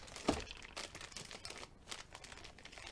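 Close crinkling and rustling of a plastic bag being pulled open from a Record Power SC3 lathe chuck, with a sharp crackle near the start followed by softer scattered crinkles.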